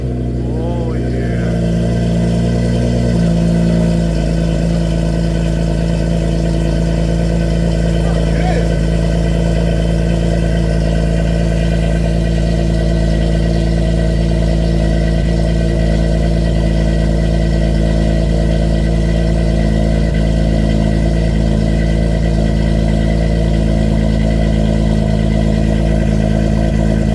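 A Honda Accord with a fully redone exhaust system revs briefly at the start, pitch rising and falling, then settles into a loud, steady droning idle close by for the rest.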